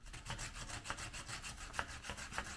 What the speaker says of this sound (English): I don't sand indoors anymore. But for these four, I guess I will.